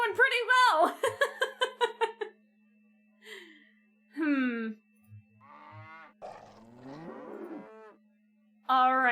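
Cattle mooing in the mystery video game Nancy Drew: The Captive Curse, several drawn-out low moos and bellows between stretches of a person talking, with a steady game hum underneath.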